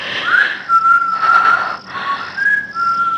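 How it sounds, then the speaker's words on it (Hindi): Someone whistles a wavering, sliding tune in short phrases, clear and fairly close, with faint background hiss and no talk. "ये वही सीटी है,"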